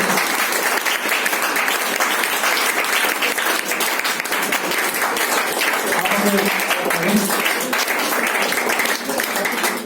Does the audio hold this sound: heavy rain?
no